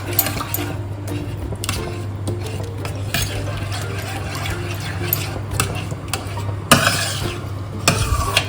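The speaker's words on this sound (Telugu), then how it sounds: "మైదా పచ్చిన వాసన పోయే వరకు మనము ఇలాగే కలుపుతూ ఉండాలి" A spoon scraping and stirring maida flour in a pan for white sauce pasta, with a steady low hum of the stove beneath and soft intermittent scrapes, fairly close and continuous.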